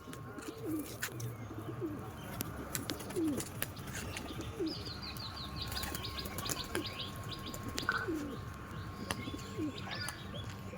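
Pigeons kept by a fancier coo in soft, repeated low calls spaced every second or so, close by, with faint chirps and scattered clicks in the background.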